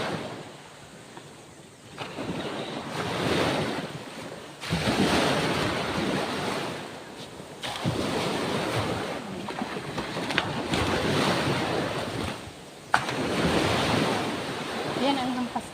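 Sea waves crash and wash repeatedly onto a black sand beach at Bagac, Bataan, loud surges every few seconds with wind buffeting the microphone between breakers.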